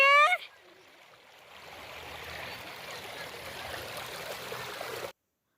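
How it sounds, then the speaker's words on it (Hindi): Cold mountain stream water flows steadily as a broad, even rush on a mountain trip, after a brief high-pitched exclamation at the start, then cutting off abruptly. "पानी की आवाज़ जो भी आपने सुनी है, ये इतनी अच्छी लग रही थी, इतना सुकून दे रही थी"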